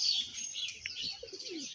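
Pigeons kept for flying and display make soft coos and brief chirps at close range over a faint background, with no talking.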